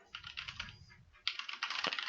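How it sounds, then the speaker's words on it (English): Brisk bursts of computer keyboard typing picked up by a headset microphone with no noise cancellation, clicking in two quick runs with a short pause between them. "typing test"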